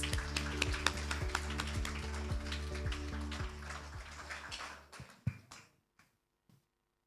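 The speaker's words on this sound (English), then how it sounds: "Please give her a round of applause." A live audience at a member success seminar in New Zealand gives steady, dense applause, a fairly distant and soft wash of many claps that thins out and stops near the end.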